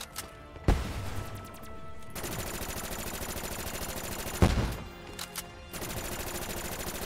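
Bursts of automatic gunfire in Call of Duty Black Ops 3 custom zombies mode on the Dawnstar map, with sustained rapid fire, two sharp heavy blasts and brief pauses between volleys.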